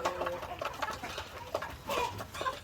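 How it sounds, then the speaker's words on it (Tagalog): White leghorn cross and heritage breed chickens eat feed, with soft clucks and scattered pecking and scratching sounds at close range, fairly quiet overall. "ating mga crosses, white leghorn cross ng mga heritage breed, ay ang lakas kumain nila"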